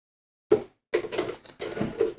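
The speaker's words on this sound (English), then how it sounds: "Then I'm gonna take the screws up here." Screws being worked loose from the chassis of a Marshall-style DSL 40CR guitar amp, heard as a few close mechanical clicks and ratcheting scrapes in short bursts, with no talking.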